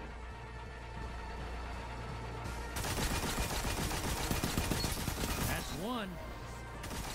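Dense rapid gunfire rattles through a Destiny 2 match, loud and continuous, with a voice speaking briefly and a rising synthetic tone near the end.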